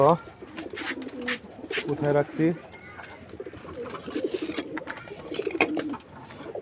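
Pigeons, including male birds, coo repeatedly at close range in a loft after being given water, and someone speaks briefly over the steady cooing.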